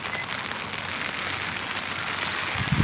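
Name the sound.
heavy rain falling on the Pasig River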